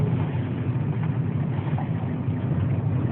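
A Lada 21126 engine pulling under load with a piston knock, heard as a loud, steady, close drone with a dense low rumble and no clear gaps.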